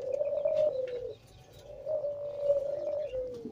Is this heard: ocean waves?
no